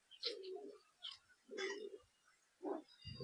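Large pigeons coo nearby in a few short, soft bursts separated by brief pauses.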